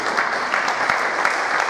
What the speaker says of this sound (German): Auch mal einen Applaus wert, danke.